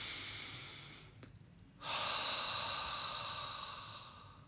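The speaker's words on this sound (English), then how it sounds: "Deep inhale through the nose. Exhale it out through the mouth." Slow deep breathing during restorative yoga, a long nasal inhale fading off, a short pause, then a fuller, louder breath out through the mouth, close and quiet with no talk.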